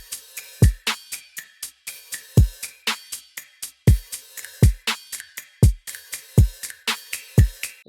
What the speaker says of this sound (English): all of them together, the trap beat sounds like this